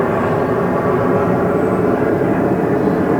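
A fixed-wing airplane flies overhead, a loud, steady broadband engine roar that fills the whole stretch without fading, heard outdoors at a riverside fishing spot.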